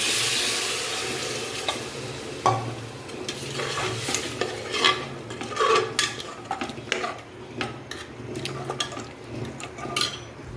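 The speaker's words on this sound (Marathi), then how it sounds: "आता ह्याला आपण एकदा परत हलवायचं पूर्ण" Spoon scraping and stirring rice in a metal pressure cooker, repeated clinks and scrapes over a soft sizzle, close and fairly loud.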